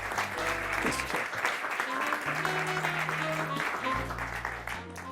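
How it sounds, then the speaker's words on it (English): Audience applause for a volunteer joining a magician on stage at a magic show, steady clapping throughout with background music tones underneath. "Let's give him a round of applause."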